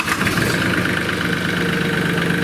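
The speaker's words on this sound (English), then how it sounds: "Then you start the tractor." A Mahindra 1626 diesel tractor engine runs at a steady, loud idle, rumbling close up and evenly with no one talking.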